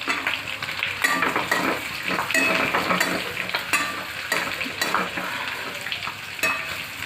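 Paneer bhaji ingredients sauté in a pan with a steady sizzle, while a utensil scrapes and clinks against the metal in repeated, uneven strokes close by, no talking.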